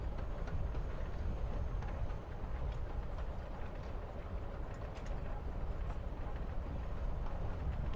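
Steady low rumble of a moving train in Life is Strange: Before the Storm, a continuous rolling drone with faint rattles running evenly throughout.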